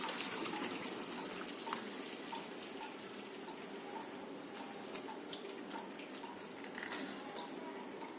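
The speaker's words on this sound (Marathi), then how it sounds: "तर यामध्ये राहिलेले शिल्लक पाणी आपण काढून घ्या। या चाळणीमध्ये आपण ही डाळ काढून घेणार आहे" Leftover cooking water pours off soft-cooked dal through a strainer, a steady close gushing and trickling that runs on for several seconds.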